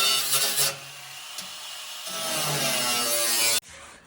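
A tool cuts pipe while an old Chevy truck front clip is fitted to the cab, a close, continuous rasping grind that swells and then stops abruptly near the end.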